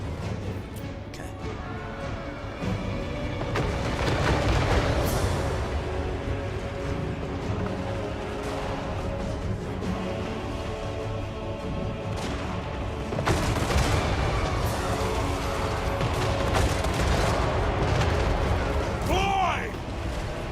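Battle in a Warhammer 3 campaign, with distant crackling gunfire volleys and booming artillery rolling through a continuous rumble of combat, moderately loud, under occasional voices.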